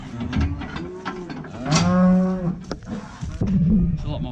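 A herd of about a hundred cows moos loudly and repeatedly as they are let out to pasture for the first time in six months, long low calls overlapping near and far.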